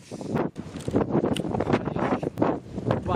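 Strong wind gusts roar during a sandstorm, buffeting the microphone in loud, continuous turbulent bursts with rustling and flapping, up close and without speech.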